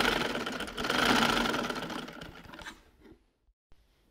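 A sewing machine stitching lace onto the slit of a kurti runs in a fast, close mechanical whir for about two and a half seconds, then slows and stops, leaving near silence with a faint click.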